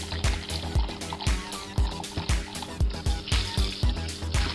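Water poured by hand into a detergent mix for a top-load washing machine, a steady splashing flow with repeated low plops and gurgles, close and continuous.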